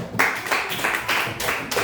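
A class of students clapping together after a lesson, a close, rhythmic series of sharp hand claps in roughly regular bursts, loud and without talking.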